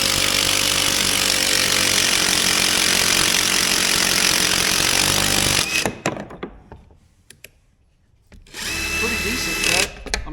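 A Dewalt DWAPVCIR battery PVC cutter drives its blade through 2-inch Schedule 40 PVC conduit, a loud, steady motor whine for several seconds, then a sharp stop and a near-silent pause before the motor briefly whirs again.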